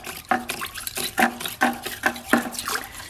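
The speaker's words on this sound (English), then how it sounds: "put it down in this diesel, and just swish it back and forth" Trailer hub parts on wire are swished back and forth in a pan of diesel, giving soft rhythmic sloshing and splashing strokes, close and fairly quiet, with no voices.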